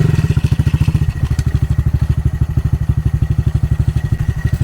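A Honda Monkey motorcycle's single-cylinder engine runs steadily with its clutch slightly adjusted, giving a loud, even low thumping beat throughout, with no talk over it.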